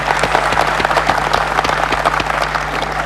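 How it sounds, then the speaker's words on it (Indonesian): A studio audience at a TVRI broadcast in Jakarta gives continuous, dense applause that holds at an even level throughout, with no voices over it. "Kita beri tepuk tangan."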